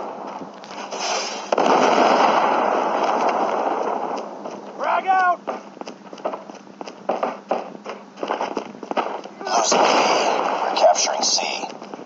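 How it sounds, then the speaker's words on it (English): Predator missile strikes in Call of Duty Mobile land as loud booming explosions with crackling debris, bursting near the start and again toward the end, separated by scattered gunfire and game effects. "Hostile Predator missile inbound."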